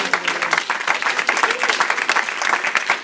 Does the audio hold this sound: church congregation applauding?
yes